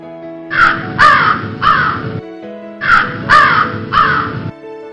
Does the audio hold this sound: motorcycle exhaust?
no